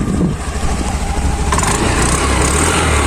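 A Honda Activa 6G scooter engine runs steadily at a smooth, loud idle, close by, with a constant even rumble and no voices.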